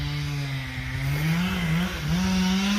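Chainsaw cutting trees on a tight job site near a small skid steer, the engine droning loud and close with its pitch wavering as it bogs into the wood and revs back up, no voices.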